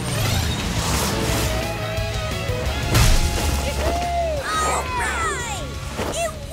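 A cartoon monster truck bursts through hay bales with a rumbling engine, crunching crash impacts and whooshing effects, mixed over bright music-like tones and brief cheering voices.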